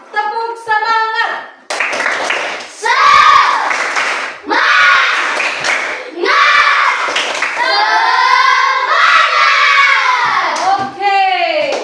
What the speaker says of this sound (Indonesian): Kita akan tepuk semangat.